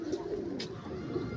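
A pigeon coos softly and steadily nearby, with no one talking over it.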